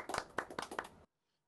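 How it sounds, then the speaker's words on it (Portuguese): A small group claps for a podcast guest in a brief, close burst of about a second, then the room goes silent. "Palmas para ele."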